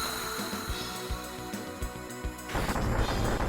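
A Brutal Fire spell attack in the video game Shining the Holy Ark, a dense roaring wash of rumbling booms and crackling bursts that builds louder toward the end, with no voices.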